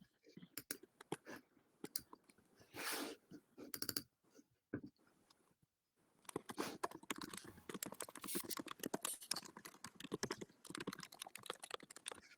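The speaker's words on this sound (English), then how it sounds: "Okay, and Raul, if you can mute, we can hear your keyboard" Typing on a computer keyboard during an online meeting, a steady run of fast, close clicking keystrokes with a brief pause in the middle, and faint voices mixed in at times.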